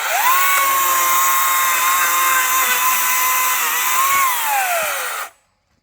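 An 80-volt battery-powered tool runs at a campsite, giving a loud, steady motor whine with a slight pitch dip near the middle. It holds for about five seconds, then cuts off abruptly into silence.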